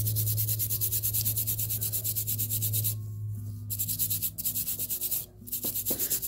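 Sandpaper rubs back and forth across a stone bead in steady, rhythmic close-up strokes, pausing briefly a few times before resuming.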